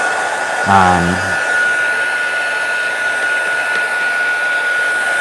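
Heat tool drying ink on a coloring page, a steady close whir with a high-pitched whine running throughout, with a brief louder burst near the start.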